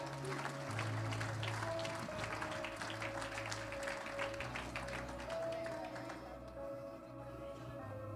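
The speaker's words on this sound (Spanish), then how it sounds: "Dele otro aplauso, dele otro aplauso." Sustained applause from a church congregation during a prophetic service, a continuous patter of many hands fairly far off that fades toward the end over a faint background hum.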